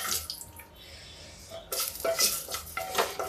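Lentil badi fry in a little hot oil in a pressure cooker on low gas, a soft sizzle broken by clinks and scrapes of a spoon against the metal pot.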